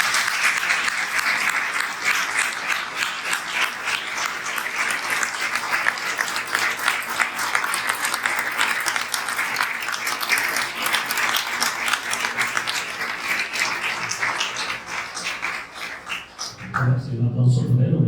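Audience applause at a book presentation, sustained loud clapping from a crowd in a hall that stays dense for most of the time and then stops abruptly near the end, when a voice comes in.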